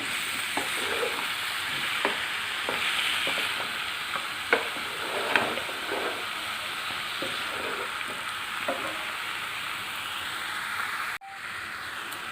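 Chicken and potato masala being stirred in a hot pan for a Kerala-style chicken mappas, a steady close sizzle broken by repeated scraping spoon strokes, until the sound drops away abruptly near the end.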